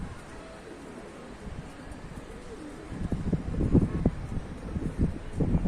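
Pigeons at a rooftop loft in Tanta, Egypt, coo in low repeated throbs, faint at first and then fuller and more crowded. Wind runs underneath.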